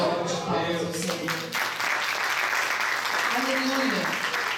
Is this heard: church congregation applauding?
yes